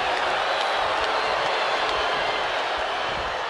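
A wrestling arena crowd at WWE Monday Night RAW cheers and applauds in a dense, continuous roar that stays loud and even throughout.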